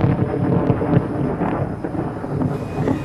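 Loud rolling thunder rumbles steadily throughout, close and heavy, after a lightning strike outdoors on a golf course.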